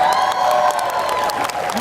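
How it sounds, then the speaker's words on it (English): A crowd at the 2013 D23 Expo Disney costume contest applauds and cheers for a young winner, with a dense, steady wash of clapping, shouts and whoops throughout. "I want you to give a round of applause to Mark, who is the Rocketeer."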